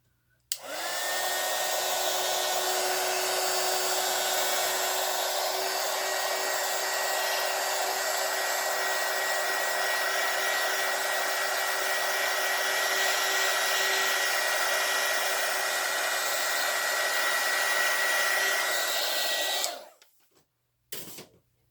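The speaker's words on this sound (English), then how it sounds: "Use my heat gun." Heat gun blowing on wet alcohol ink, a steady loud whooshing motor whine that clicks on near the start, runs evenly for about nineteen seconds, then cuts off, followed by a couple of faint handling knocks.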